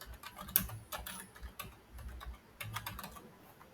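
Fingers type code on a computer keyboard, irregular bursts of close, crisp key clicks with short pauses between runs, no voices.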